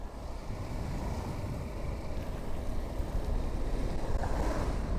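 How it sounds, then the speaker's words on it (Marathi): A dense, steady rush of a waterfall pouring down onto the road at Malshej Ghat during the monsoon, like a heavy cascade drumming down nearby, continuous and fairly even for the whole stretch. "गाडीच टाकतो वॉटरफॉल खालून"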